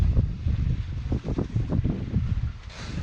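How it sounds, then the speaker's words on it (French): Steady 15-knot wind rushing past a sailboat, with low rumbling buffeting and a hiss of water in the background, continuous and fairly loud throughout. "Voilà, le vent."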